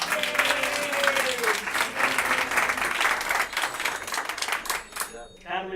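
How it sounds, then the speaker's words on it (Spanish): At a Halloween PechaKucha night, an audience claps for Carmen, the poster artist, in dense, steady applause that runs for several seconds, with a voice starting to speak near the end as the clapping thins. "un aplauso para Carmen"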